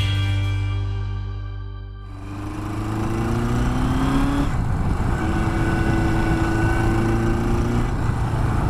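A Suzuki GS1000 motorcycle on a road test, engine and exhaust pipe recorded up close, revving and winding up through the gears with a brief dip around a shift, loud and steady with no talking.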